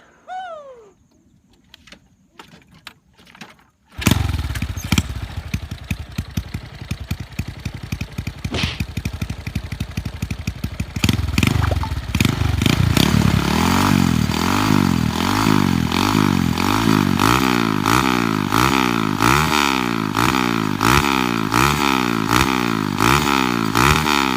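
A Honda Wave motorcycle engine starts after birdsong, then idles steadily and rises into repeated revs of the exhaust, close and loud with a rhythmic pulsing.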